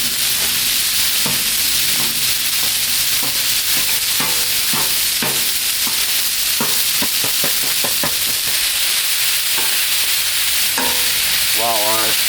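Ground beef sizzles loudly and steadily on a Blackstone griddle, a dense continuous hiss broken by scraping and tapping from a spatula being worked across the hot surface.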